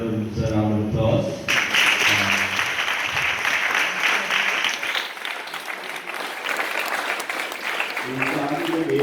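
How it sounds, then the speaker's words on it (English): Audience at an inter-house school drama competition awards ceremony breaks into loud, sustained applause for the performers, following a brief spoken moment at the start and fading as talk resumes near the end. "I think every one of you deserves a round of applause."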